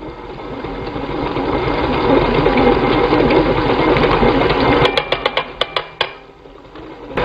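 An electric mixer whirs continuously and loudly through cookie dough after whole eggs are added, then cuts out into a series of sharp clicks and taps.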